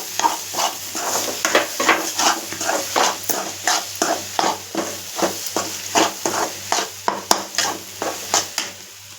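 A utensil stirs and scrapes a scrambled egg mixture around a hot pan in a steady rhythm of close, regular scrapes over a soft sizzle.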